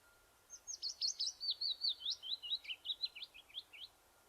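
A willow warbler sings one clear descending phrase of rapid, sweet notes, close and alone, gradually falling and fading toward the end, over quiet background.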